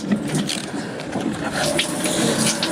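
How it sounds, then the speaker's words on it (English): Engine coolant gushes and splashes out steadily after the exhaust manifold outlet pipe is removed from a motor being fitted with new shims, a continuous close liquid pour without pause. "let's see how much coolant pours out of here."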